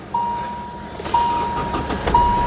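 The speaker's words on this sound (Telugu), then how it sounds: "సింగిల్ సెల్ఫ్లో కార్ స్టార్ట్ అవుతుంది" A 2018 Hyundai Verna SX starts on a single press of the self-starter, with a loud low engine rumble rising in surges and a thin steady tone running alongside.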